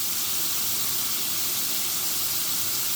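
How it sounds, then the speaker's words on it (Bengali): Cabbage, carrot, capsicum, beans, ginger and garlic fry with salt in a hot pan for street-style chow mein, giving a steady, loud sizzling hiss that continues unbroken and without voices. "এবার এটাকে আমি সামান্য নুন দিয়ে ভেজে নেব"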